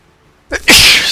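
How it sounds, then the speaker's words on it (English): A single sharp sneeze, a quick intake followed by a loud explosive burst, close and alone, during video game play. "Sneeze."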